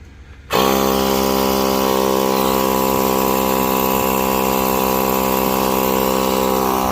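Portable air compressor pumping up a flat tire on a Maserati Levante, starting abruptly after a brief quiet moment and then running loud and steady with a constant droning hum close by.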